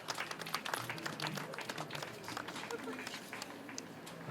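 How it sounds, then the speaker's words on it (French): An audience claps at a memorial tribute, a patter of applause that is loudest at first and thins out, with voices speaking over and around it. "Est-ce qu'on peut applaudir"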